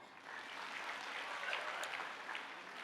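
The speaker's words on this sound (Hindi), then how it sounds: "एक बार ताली बजाओ।" A gathered audience at a Hindu spiritual discourse gives a brief round of applause, a steady wash of clapping heard at a distance and fairly faint.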